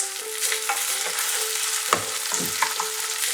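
Duck eggs for a Bengali kosha fry and get stirred in a pan: a steady, close sizzle with scraping stirs, strongest near the middle, and no voices.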